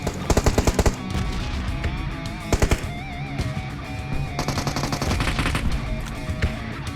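Gunfire in the video game PUBG cracks in rapid automatic bursts, loud and close, with short volleys separated by quieter game ambience and a rising engine-like drone.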